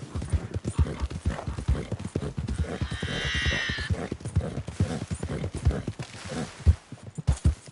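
Horse hooves gallop in Red Dead Redemption 2, a steady rapid clip-clop close by with a brief whinny-like burst in the middle.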